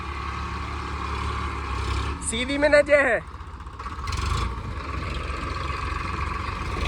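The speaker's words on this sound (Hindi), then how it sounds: "वो ट्रैक्टर की तो अपनी पूरी ताकत लग रही है" An Eicher 557 tractor straining under load in a tractor pulling battle, a steady low engine drone throughout with a brief rising whine in the middle, people talking over it.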